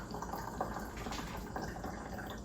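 Vodka being poured over elderberries into a jar for a tincture, a steady continuous liquid trickle and splash, fairly quiet and close, with no talking.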